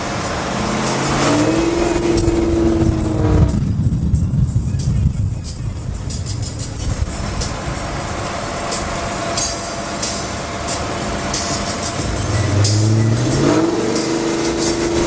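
A muscle car's engine drones loudly throughout a drive, climbing in pitch near the start, easing off in the middle and rising again toward the end, with road rumble underneath.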